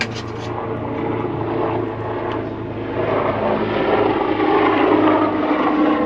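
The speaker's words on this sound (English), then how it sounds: "Do excuse the plane, helicopter I should say." A helicopter flies overhead outdoors, making a steady, loud droning rotor and engine roar that swells slightly toward the end, with no talking.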